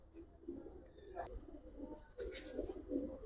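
Pigeons cooing softly in a loft, low repeated coos with a few faint flutters and chirps, quiet and close, with some murmured talk nearby.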